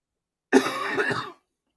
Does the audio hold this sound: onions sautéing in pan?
no